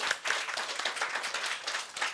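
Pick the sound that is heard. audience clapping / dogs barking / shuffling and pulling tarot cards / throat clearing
audience clapping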